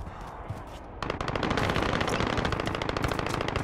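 Video game gunfire in Plunder mode starts after a second of muffled ambient noise, then becomes a dense, continuous rapid rattle of shots that stays loud and steady to the end.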